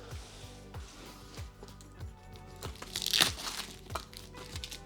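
Cardboard and packaging of a Scalextric slot car set crinkle and crunch close up, with repeated low thumps and a sharper tearing scrape midway, no talking.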